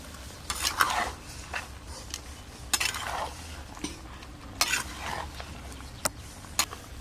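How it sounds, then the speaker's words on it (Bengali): Mutton and onions being stirred in a pan, with repeated scraping strokes of a spoon against the metal and occasional clinks over a soft, low sizzle, close and fairly quiet. "এইভাবে খুব ভালো করে নেড়ে নেড়ে পেঁয়াজগুলো মিশিয়ে নেব মাংসের সাথে"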